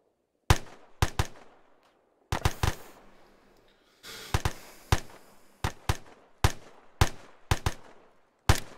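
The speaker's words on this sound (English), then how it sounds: "Watch and shoot." Gunfire in the video game Arma III as an infantry section shoots: around fifteen loud, sharp rifle cracks come in irregular single shots and quick pairs, each trailing off in a short echo, with no talking.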